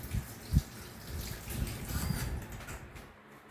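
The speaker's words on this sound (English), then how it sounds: "So I'm just gonna wash my hands" Tap water runs steadily into a sink while someone washes their hands before cooking, a soft low splashing flow with a couple of brief knocks near the start, close but quiet, no talking.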